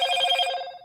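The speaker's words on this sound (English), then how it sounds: "Oh, I'm getting notifications." A short electronic phone notification chime rings out clearly, a bright tonal alert that sustains briefly and fades, with no talk over it.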